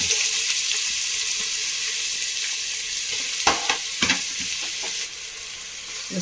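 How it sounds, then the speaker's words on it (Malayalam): Steady sizzle of onions frying in ghee and coconut oil in a pan, with a few sharp stirring scrapes partway through, continuous and close. "നമുക്കൊരു സവോള വറുത്തെടുക്കാം"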